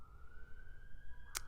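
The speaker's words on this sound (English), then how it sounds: "there's a loud siren out there that's just slightly distracting me" A loud siren sounds somewhere outside, heard faintly and at a distance as a steady held wail over a low background rumble, ending in a sharp click.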